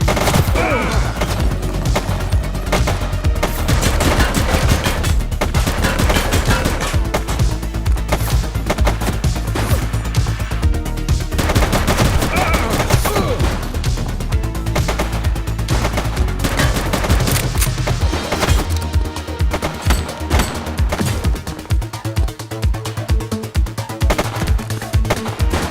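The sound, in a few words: gunfire from a video game (The Precinct)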